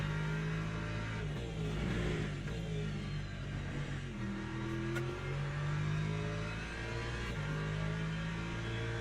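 Porsche and Ferrari race cars roar around a wet Daytona circuit in Le Mans Ultimate, steady high-revving engine drones rising and falling through gear changes, loud and continuous without talk.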